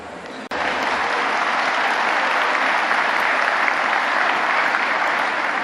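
A large audience at the 102nd anniversary celebration of Nahdlatul Ulama breaks into loud, dense applause after a brief pause, sustained evenly to the end with no talk over it.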